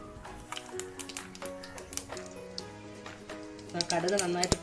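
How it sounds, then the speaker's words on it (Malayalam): Mustard seeds crackling in hot oil in a pan, a scatter of sharp, quick pops that thicken toward the end, fairly quiet and close, with a person talking over them. "കടുക് നന്നായിട്ട് പൊട്ടി വരുന്നുണ്ട്."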